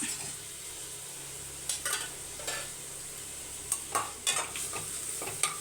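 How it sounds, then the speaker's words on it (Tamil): Millet and broken urad dal dry roasting in a pan, with a low steady hiss and occasional scraping stirs that grow a little more frequent toward the end; the sound is quiet and close. "அரை கப்பு கம்பு அரை கப்பு உடச்சக்கலை அரை கப்பு போட்டு நல்லா வறுத்துக்கணும்"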